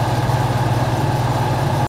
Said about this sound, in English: I can't run the heat while I shoot a video or it sounds like this.